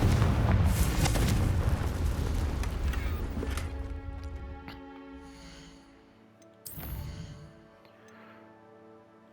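A Confringo fire spell from the video game Hogwarts Legacy bursts into a loud, rumbling explosion, then decays into a long ringing, crackling tail with a smaller second blast near the end.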